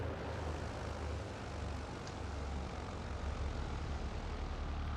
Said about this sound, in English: And we'll cut the throttles here